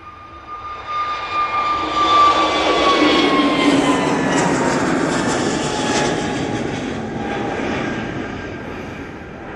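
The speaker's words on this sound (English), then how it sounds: "EasyJet's A320neo" An EasyJet Airbus A320neo at Manchester Airport gives a loud, steady jet engine roar with a rising whine, sustained and close throughout.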